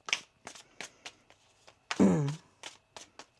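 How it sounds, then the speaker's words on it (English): Tarot cards being shuffled by hand, a single dense riffling burst in the middle with soft card taps and handling sounds around it, close and quiet. "One more shuffle."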